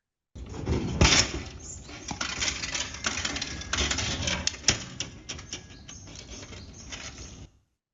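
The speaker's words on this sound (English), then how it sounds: "this is the sound of the vending machine" Mechanical rattling and clunking with whirring, clicks and a coin-like clink, close up, lasting several seconds before cutting off abruptly.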